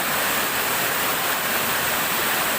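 A waterfall thunders up close as a dense, steady roar of falling water, broadband and unbroken from start to finish with no voices over it.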